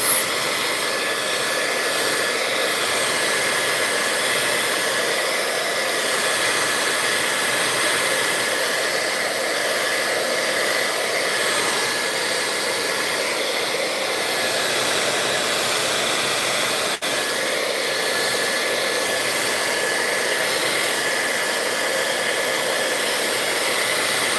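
A hair dryer blows steadily on a handmade date book craft project, a loud, continuous whooshing hiss that holds an even level for the whole stretch with no voices over it.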